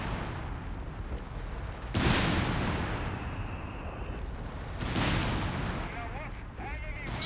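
An M3 artillery barrage in the video game Company of Heroes 3, heavy booming shots with long rumbling tails over a constant battlefield din, two big blasts standing out loudly.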